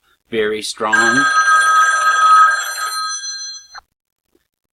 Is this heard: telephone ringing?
yes